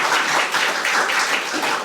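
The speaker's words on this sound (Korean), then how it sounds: "저희 박수로 청해 듣도록 하겠습니다." Applause from a seminar audience welcoming a presenter, a dense, even patter of many hands clapping close by for about two seconds.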